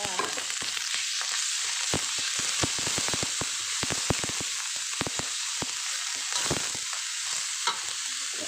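Pork and coarsely chopped garlic stir-fry for a Thai mixed basil dish, with a steady loud sizzle of frying broken by many sharp clacks of a spatula scraping and tossing in the pan throughout.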